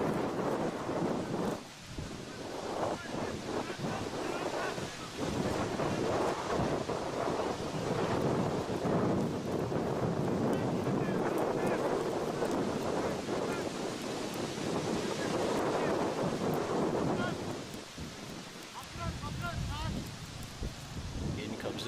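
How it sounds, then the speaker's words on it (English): Strong wind roars across an outdoor cricket ground during an ADDA Premier League match in Morrisville, a loud, continuous buffeting rush with gusts that swell and ease, briefly dropping near the end. "As the wind picks up here"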